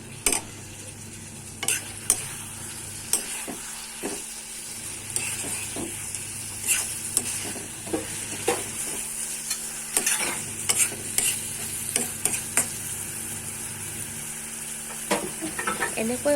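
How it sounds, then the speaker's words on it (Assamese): Mustard seeds briefly frying in a pan while being stirred, a soft sizzle under repeated sharp scrapes and clinks of a spatula against the pan, close-up and without talk. "মই একেবাৰে কম সময়ৰ কাৰণে সৰিয়হখিনি ভাজিম।"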